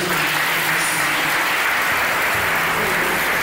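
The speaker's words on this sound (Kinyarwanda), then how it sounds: "Atukumbere Imana amashyi." Applause fills the church at a religious wedding, a dense, steady clapping from a large crowd that runs unbroken throughout.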